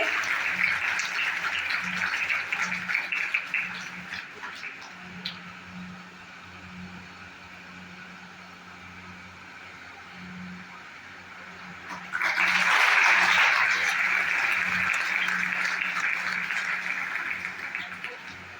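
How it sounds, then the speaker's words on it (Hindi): At a university campus ceremony, an audience welcomes students onto the stage with a swell of applause that rises in the latter part, a broad, steady clapping from a large crowd after a stretch of quieter murmur and talk. "एक बार जोरदार तालियों से इन विद्यार्थियों का स्वागत कीजिए."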